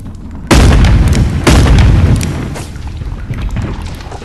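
A gunshot in the video game Animal Company sounds as two loud, booming blasts about a second apart, each followed by a rumbling decay, with no talk over them.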